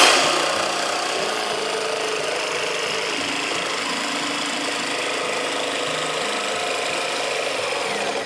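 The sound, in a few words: power tool making a rough cut in wood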